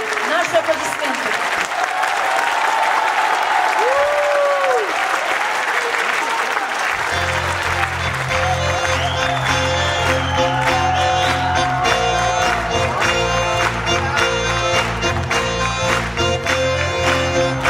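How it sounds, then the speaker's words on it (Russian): Strong concert audience applause with scattered whistles at a Moscow celebration of the Zul holiday, loud and sustained; after several seconds an ensemble begins playing while the clapping carries on beneath the music. "Наши аплодисменты."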